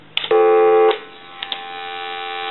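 A Dragon speakerphone switched on with its speakerphone button: a loud, brief electronic beep, followed by a steady, quieter dial tone that keeps droning with a couple of faint clicks.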